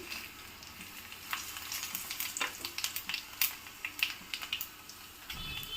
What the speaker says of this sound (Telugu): ఈ వెల్లుల్లి రేకులను వేసుకోవాలి అలాగే ఒక హాఫ్ టేబుల్ స్పూన్ జీలకర్ర హాఫ్ టేబుల్ స్పూన్ ఆవాలు వేసుకోవాలి